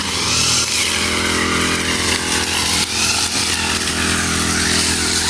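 Gas grass cutter trimming grass along the roadside, its small engine whining loud and close in a continuous high-pitched drone with a brief dip in revs midway.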